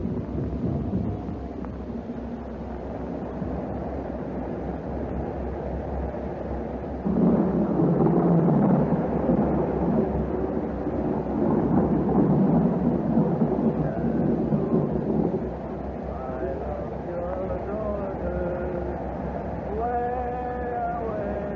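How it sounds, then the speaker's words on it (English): Rumbling thunder from an approaching storm rolls in as a low, sustained roar with swells that build and ease across the stretch, heavy and steady under faint background sounds, in a radio-drama setting. "They said there'd be a storm tonight. It looks like it's on the way."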